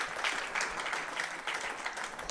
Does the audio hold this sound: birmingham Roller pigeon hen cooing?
no